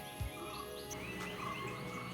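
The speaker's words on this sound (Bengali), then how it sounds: "পাখির আওয়াজটা শুনতে পেলেন?" Birds calling outdoors among flower gardens in Munnar, Kerala, with several short chirps and trilling calls over a steady hum of background insects or frogs, moderately distant and fairly faint, with no talking.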